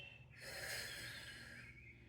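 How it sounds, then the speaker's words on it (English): One long, heavy exhale rushes out during a mini-band core strengthening workout, faint and close, rising and then easing off, with no talking. "You're going to hear me heavily breathing today."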